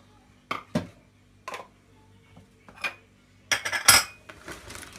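A spoon stirs olive brine with lemon and oil in a bowl, giving sparse, sharp clinks and scrapes of metal on the dish, with a quick cluster of louder clatters near the end in a quiet room.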